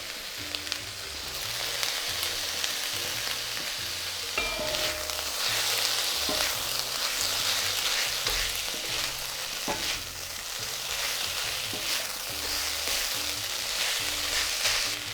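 Rice fries in a hot pan for pineapple fried rice, a dense continuous sizzle with crackles and scraping stirs, while a quiet rhythmic music track runs beneath; nobody talks.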